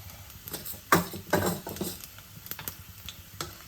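Chana dal, urad dal, cumin and mustard seeds drop into hot oil for tempering, giving a few sharp pattering crackles and light sizzle with scattered pops, close and moderately loud, no speech.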